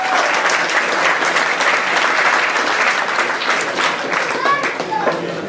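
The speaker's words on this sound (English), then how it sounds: "a big round of applause" A crowd at a hurling match presentation applauds steadily, loud dense clapping throughout with a few faint voices and whistle-like calls near the end.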